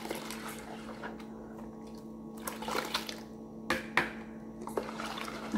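Powdered soap is stirred into water for homemade soap, giving soft sloshing and swishing with occasional clinks and splashes, close by and fairly quiet over a steady background hum.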